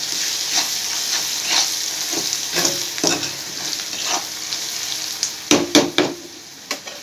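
Mutton liver fries with spices in a pan, a continuous sizzle broken by scraping stirs and a quick cluster of clattering knocks near the end.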